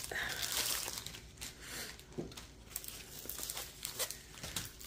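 Plastic package being cut open, with crinkling and tearing of the plastic in short quiet bursts and scattered crunchy rustles, faint and close.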